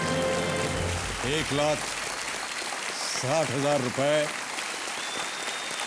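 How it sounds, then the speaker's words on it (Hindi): Studio audience applause on a Hindi TV quiz show set, a broad steady patter running under the host's speech throughout. "और तालियां बजती रहनी चाहिए"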